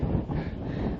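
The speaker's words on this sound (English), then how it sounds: "It's just to give you an idea how windy this is." Strong wind buffets the microphone on a beach in a continuous low, gusty roar, moderately loud with no voices.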